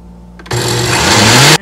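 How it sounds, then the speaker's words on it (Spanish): A blender whirs into action after a brief click, running steadily and loud as it blends a chocoflan mixture of condensed milk, its motor pitch rising slightly near the end before cutting off. "Ahora vamos a licuar."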